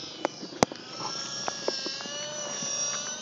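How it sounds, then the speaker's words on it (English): A steady rotor and engine drone from aircraft overhead, fairly distant, with a few sharp clicks and knocks in the foreground. "Lots of airplanes and helicopters today."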